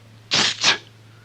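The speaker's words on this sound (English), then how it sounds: "Mowgli sneezed" A short double sneeze effect from a 1976 children's filmstrip of Kaa's Hunting, two quick breathy bursts over a low steady hum.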